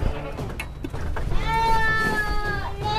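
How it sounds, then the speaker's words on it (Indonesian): A goat bleats loudly and up close in a long wavering call, preceded by shorter bleats amid farm noise, with a faint voice in the background. "Masih makan kambing"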